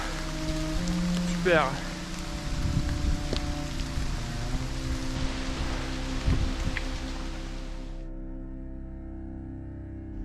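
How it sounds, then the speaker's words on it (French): Rain falls steadily in the Alps as a dense, even hiss close around the listener, with a brief spoken word and a faint bird-like chirp early on before the rain noise cuts off abruptly near the end. "La pluie a traversé toutes mes couches de vêtements."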